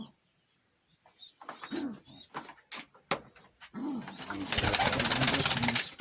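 Van pigeons, including young birds, in a loft, giving a few soft throaty coos amid scattered chirps and shuffling, then a burst of loud, close flapping-like rustle.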